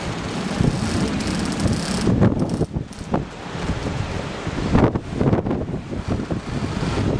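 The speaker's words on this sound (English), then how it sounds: "it's windy, but through the Spirit guide us" Strong wind buffets the microphone continuously, with gusty roaring and rustling that rises and falls throughout.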